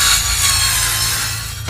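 An animated Spirit Halloween 2021 buzzsaw prop runs with a steady, loud rasping saw whir throughout, with no talk over it.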